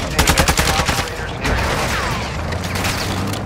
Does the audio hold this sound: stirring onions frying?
no